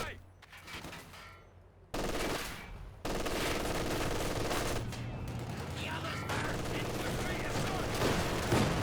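Machine gun fire crackles in sustained bursts during a strategy video game match, dense and continuous rapid shots with brief gaps, loud and close, with distant booms mixed in.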